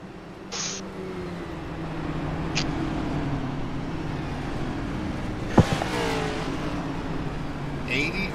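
Race car engines drone and build at the start of a Bluegrass Cup Series race at Pocono Raceway, a steady mid-distance roar of a pack with a sharp bang midway, under broadcast commentary.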